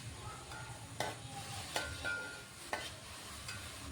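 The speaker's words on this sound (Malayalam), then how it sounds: "ഇനി ഇത് എണ്ണയ്ക്കകത്ത് നല്ലവണ്ണം ഒന്ന് വഴറ്റിയെടുക്കുക" Tomatoes and curry leaves sauté in hot oil for a coconut curry, with a steady soft sizzle and occasional sharp scrapes and clinks of a spoon stirring against the pan.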